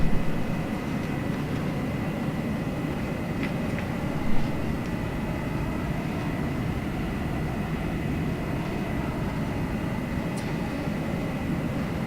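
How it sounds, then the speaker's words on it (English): Lockheed F-104 Starfighter jet in the Norsden Land video game, a steady loud engine roar and rumble with a high whine, constant throughout and alone without talk. "Alright, we're ready for takeoff now."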